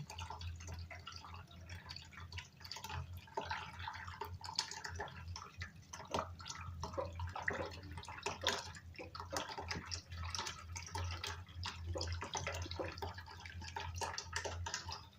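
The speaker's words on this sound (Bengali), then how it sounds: "একটু পানি পড়তেছে" Water drips and trickles quietly while a siphon is fitted in a Saudi home, faint irregular patters over a low steady hum.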